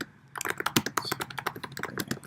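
Close, crisp typing on a computer keyboard, a quick irregular run of key taps starting after a short quiet moment and continuing steadily to the end.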